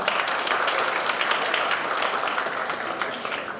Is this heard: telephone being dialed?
no